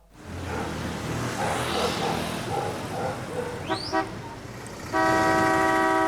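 A car drives past on a city street under a busy mix of traffic and voices, then honks a long, loud, steady horn blast that runs to the end.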